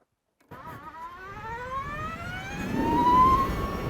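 Energica EVA Rebelle RS electric motorcycle pulling away, its motor whine climbing steadily in pitch as it accelerates, then a brief shift to second gear without a clutch as the road noise swells, loud and close.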